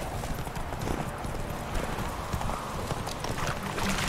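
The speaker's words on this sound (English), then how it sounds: "Run, Roach" Galloping horse in The Witcher 3 video game, a steady rapid clip-clop of hooves running continuously at close range with background game ambience.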